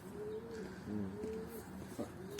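A pigeon in a loft in Antalya gives soft, repeated low cooing, quiet and close against a faint background.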